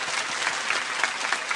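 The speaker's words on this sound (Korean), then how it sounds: "박수" A church congregation gathered for early-morning prayer applauding, a steady wash of many hands clapping close and full for a brief moment.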